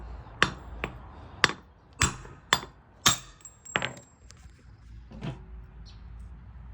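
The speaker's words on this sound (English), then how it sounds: "To remove the original stud, just put it on top of a socket, a deep socket, and just hammer it." Sharp metallic hammer strikes driving a wheel stud out through a deep socket on a Honda Civic, about eight blows in an irregular rhythm, ringing briefly, followed by a few lighter taps; close and loud.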